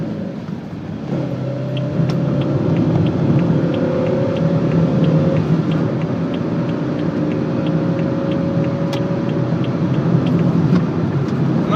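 A car overtakes on a straight road, its steady engine drone and road rumble rising at the pass and holding loud and close, with a faint tonal whine riding above.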